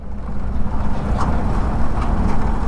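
A vehicle rolling slowly over a rough, uneven gravel stretch of the NH 34 highway on the way from Barasat to Krishnanagar, giving a steady low rumble with faint rattles from inside the cabin, close and continuous throughout.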